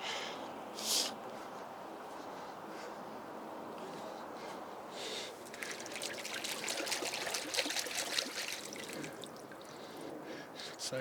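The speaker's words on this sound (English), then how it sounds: "Let me just rinse this off" Freshly harvested ginger root rinsed under running water, a soft, steady trickle and splash close by with faint handling noises, fairly quiet throughout.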